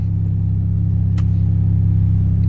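BMW 335i accelerating from second gear, a loud, steady low engine drone with a pulsing rumble heard from inside the car, continuous throughout with no voices.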